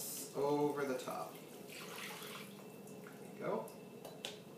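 Chocolate brownie pudding mixture pours over a brownie base with a soft, wet, trickling sound, fairly quiet and close, while a voice talks over it.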